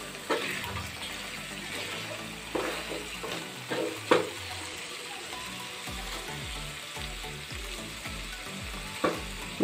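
Bhimavaram restaurant-style chicken fry pieces sizzle in a pan for egg biryani, a continuous soft crackle broken by several sharp spoon-against-pan clanks from stirring.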